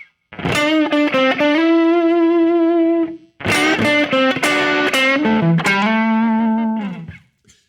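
A distorted electric guitar plays a sustained minor blues lick, with bent, held notes, a short pause, then another phrase ending on a long ringing note.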